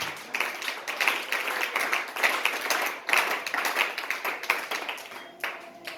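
A church service congregation claps and cheers in acclamation, a dense, steady patter of many hands with rising shouts, heard from a moderate distance with no clear speech over it.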